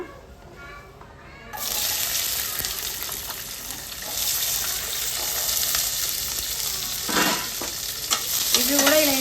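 Kalinkaya fried in oil for pickle, with a steady close sizzle as a spoon stirs and scrapes the pan, rising after a quiet start and continuing throughout.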